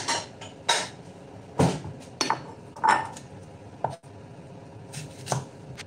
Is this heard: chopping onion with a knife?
yes